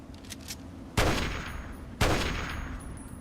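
Two sharp, loud gunshot blasts from a video game, about a second apart, each followed by a long echoing decay over a faint background hum; no talking.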